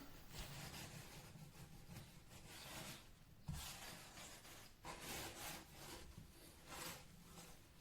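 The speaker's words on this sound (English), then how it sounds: "rub all over the chopping board like so" A wooden chopping board is scrubbed with salt and a lemon, giving a quiet, steady series of gritty rubbing strokes at close range, with no voices.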